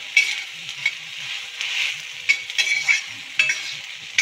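Food fries in a kadhai over a low flame, a steady soft sizzle broken by several scraping stirs of a spoon against the pan, close and without talk.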